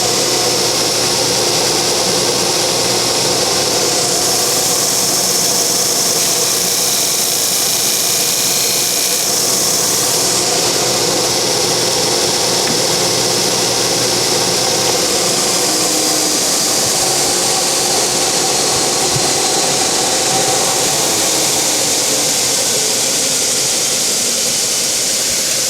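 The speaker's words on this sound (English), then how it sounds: "as you saw me sanding that radius" A power sander works the radius of a guitar under construction, a loud continuous whine with a brief shift in pitch midway, steady and close for the whole stretch.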